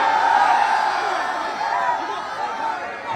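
A large outdoor political rally crowd in Karakat roars with sustained cheering and applause, a dense, steady wash of many voices and hands that stays loud throughout with slight swells.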